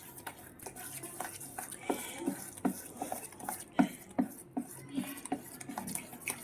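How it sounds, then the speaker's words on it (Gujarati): A spoon stirs dal vada batter mixed with hing in a bowl, close-up, giving a series of sharp clinks and taps against the vessel at an irregular stirring rhythm over soft scraping. "સારી રીતે મિક્સ કરી દઈશું."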